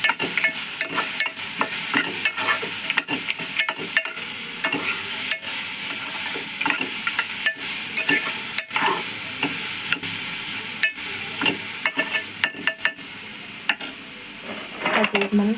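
Carrot curry with turmeric and salt is stirred in a pan, a close, steady sizzle broken by frequent sharp scraping and clinking strokes of the spoon against the metal, with no talking.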